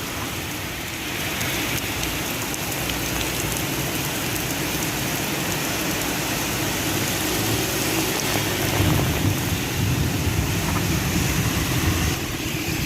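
Steady, loud roar of strong monsoon wind during a sudden heavy downpour, buffeting the microphone, a continuous broadband rush with low rumbling gusts and no voices.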